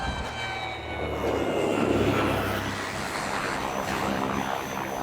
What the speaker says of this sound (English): Nice little plane.